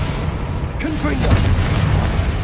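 A Confringo blasting spell in Hogwarts Legacy bursts in a loud booming rumble that rolls on over a brief spoken voice and continued deep battle noise.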